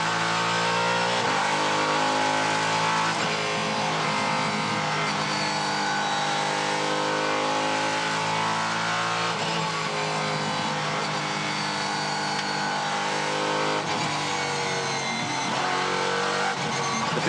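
A 5.2-litre, 620-horsepower V8 race car engine roars continuously at high revs during the Bathurst 12 Hour race, its pitch rising and dipping through gear changes, loud and close with no talking.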